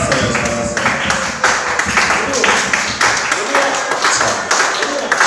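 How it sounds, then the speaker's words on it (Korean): A church congregation applauding each other, a loud, close burst of dense clapping lasting several seconds with a little voice mixed in. "우리 서로한테 박수 한번 쳐줄까요?"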